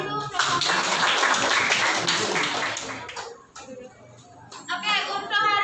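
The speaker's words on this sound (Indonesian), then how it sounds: "Kasih tepuk tangan dulu untuk" Students in a classroom clap for a classmate group, a brief burst of hand clapping that fades after a few seconds, followed by quieter taps and a teacher's voice speaking.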